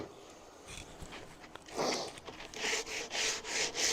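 Rhythmic sanding of a wooden floating shelf, repeated scratchy back-and-forth strokes that grow louder and more regular toward the end, close by.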